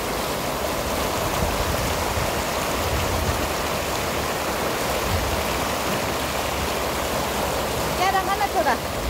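Water of the Mechi River flows in a steady, loud broadband rush close by, with a brief faint voice near the end.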